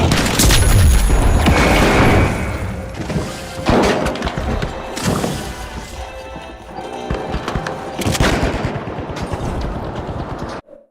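A frag grenade goes off in a video game amid loud, busy combat noise: booms, gunfire and clattering impacts crowd together with several sharp bursts before cutting off abruptly.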